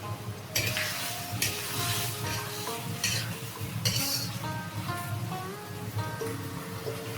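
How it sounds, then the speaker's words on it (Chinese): Radish being stirred in a wok right after a cornstarch slurry goes in for a sweet and sour dish, with steady scraping strokes over a soft sizzle and occasional clinks of utensil on metal, heard alone. "勾入水淀粉"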